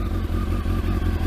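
Kawasaki ZX12R motorcycle engine idling on heavy choke after a cold start, a steady loud low rumble with a fast, even pulsing rhythm, close by.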